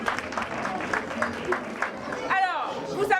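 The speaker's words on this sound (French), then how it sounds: "On peut encore l'applaudir." Audience applause at an Antillean party evening, a steady patter of many hands clapping for a while under crowd chatter, with a voice speaking over it near the end.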